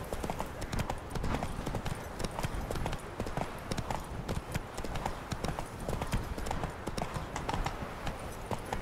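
Steady clip-clopping horse hooves at a trot in the video game The Witcher 3: Wild Hunt – Hearts of Stone, close and continuous throughout, with dense rhythmic impacts over a busy background.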